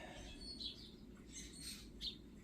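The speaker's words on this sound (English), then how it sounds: "I'm looking at all these birds. We have lots of birds right now" Several birds chirp outdoors in late spring, a few short high tweets over a low steady background hum, fairly faint and at a distance.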